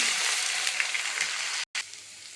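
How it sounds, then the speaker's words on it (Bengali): Tempering spices frying in white vegetable oil before Gobindobhog rice and dal go in, a steady close hiss and crackle with a brief cut near the end. "ফোড়নটা ভেজে নিই, তারপর চাল দেবো।"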